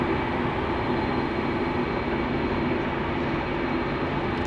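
Steady, broadband jet roar from a Qantas airliner at Sydney Airport, heard at a distance as a constant even rumble with no talk over it.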